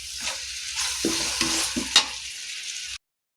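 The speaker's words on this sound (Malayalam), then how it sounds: "നമുക്ക് നന്നായി കുറച്ചൊന്ന് മൊരിയട്ടെ" Masala for biryani fries and is stirred in a pan, giving a short burst of sizzling with a few spoon scrapes and clanks close up, then cutting off abruptly; no talk.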